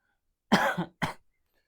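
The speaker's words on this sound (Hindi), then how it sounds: "खांसी आ रहा हल्का फुल्का" Two light coughs close to the microphone, a short one followed quickly by a second, softer cough, with silence around them.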